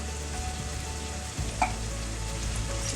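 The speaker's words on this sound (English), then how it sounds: "after frying for around 3 to 4 minutes, I'm gonna add the green peas" Frozen green peas sizzle steadily in a hot pan, with a brief scrape of stirring partway through and a constant crackling hiss throughout.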